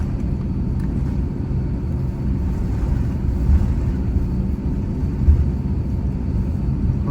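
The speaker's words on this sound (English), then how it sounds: "We got on the runway, now we're getting off the runway." Airliner cabin rumble as a Delta jet taxis off the runway at Haneda, a steady low engine drone and rolling rumble throughout, with no voices.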